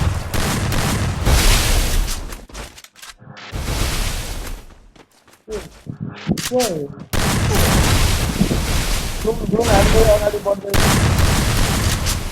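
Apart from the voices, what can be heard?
gunfire in a video game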